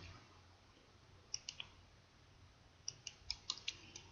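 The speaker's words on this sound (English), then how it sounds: "click the right side of my mouse and then left click for copy" Several sharp, faint computer mouse button clicks come in two small clusters against a quiet background hiss.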